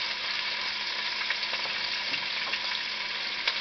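Onions fry in a pan alongside pork chops, a steady, even sizzle with faint stirring scrapes and small pops, close and continuous with no talking.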